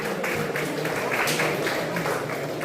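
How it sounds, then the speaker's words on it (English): A crowd at an academy event applauds five young players who made the U15 Nationals, steady mid-level clapping blended with murmur, continuing evenly throughout. "Big round of applause for those 5 kids."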